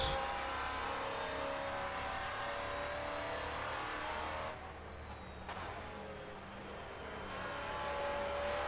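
A GT4 race car engine in Assetto Corsa drones steadily around the Zandvoort circuit, holding a continuous loud revving tone that dips briefly as the car shifts or lifts, then builds again.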